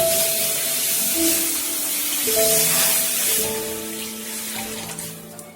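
Water pouring into a cooking pot heated on a stove while preparing an Odisha-style vegetarian dish, a steady splashing hiss that runs continuously and fairly loud throughout, with a faint tonal hum beneath.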